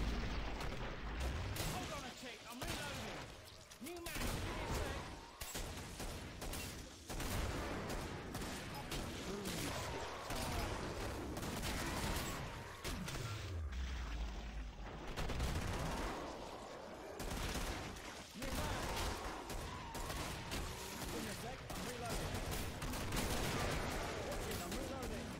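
Rapid gunfire from the video game Killing Floor, in a Hell on Earth round on the Hospital Horrors map, crackling in dense bursts across the whole stretch with booming impacts and a player talking over it.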